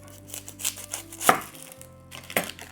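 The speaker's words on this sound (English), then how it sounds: "Let's get this onion chopped up." A knife chops an onion on a cutting board, giving a few distinct close thumps and crisp slicing taps in a quiet kitchen.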